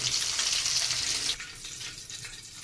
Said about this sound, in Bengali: এবার সবজি গোটা ভেজে নেবো